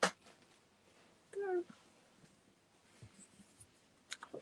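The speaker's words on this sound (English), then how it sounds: "Thought there was a cat." A single short cat meow, a brief rising cry, rings out in a quiet indoor craft room, with light paper and tool rustles and a few soft taps around it.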